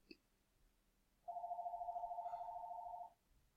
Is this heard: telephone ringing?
yes